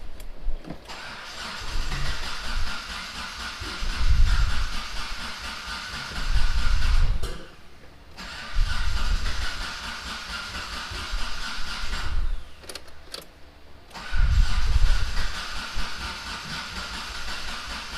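A Mitsubishi 3000GT VR4 engine with a no-spark fault cranks on its starter after starter fluid is sprayed in. Several separate bursts of close, loud cranking and whirring are broken by short pauses, and the engine never catches.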